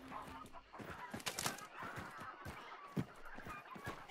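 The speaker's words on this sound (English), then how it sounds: "Try not to set off these crows over here if we can." Crows in a zombie video game give a flurry of harsh, repeated caws and squawks, close and fairly faint, in quick irregular bursts.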